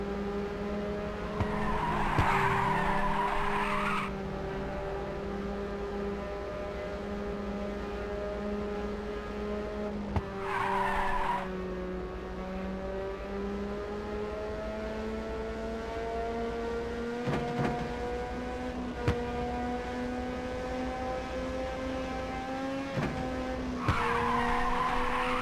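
Arcade racing game car in Ridge Racer 2, a sustained engine drone rising and falling through gear changes, with several loud bursts of tire squeal as the car drifts through corners.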